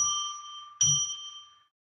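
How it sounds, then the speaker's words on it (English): A small bell is struck twice, two clear ringing tones with a long shimmering decay that fades out, close and alone with no talking. "let's ring a bell 3 times, which I use to declare a sacred space"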